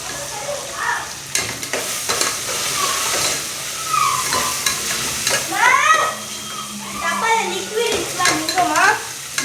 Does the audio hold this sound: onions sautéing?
yes